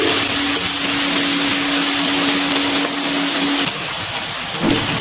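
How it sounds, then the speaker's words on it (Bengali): Prawns frying in oil over a high gas flame, a loud, dense, hissing sizzle that holds steady throughout, with a faint steady hum underneath. "গ্যাসের ফ্লেমটা হাইতে দিয়ে আমি চিংড়ি মাছটা ভেজে নিচ্ছি"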